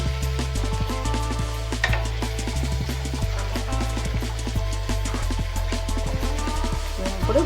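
Chicken kofta curry masala sizzles in a pan as it is stirred, a steady frying hiss dotted with rapid scraping ticks over a low, droning hum.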